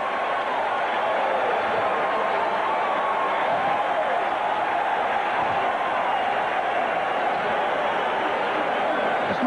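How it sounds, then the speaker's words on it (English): A packed New Orleans Saints home crowd roars at a 1982 football game against Washington, a dense, steady wall of cheering and noise filling the stadium throughout. "This might be the wildest crowd we've seen all season"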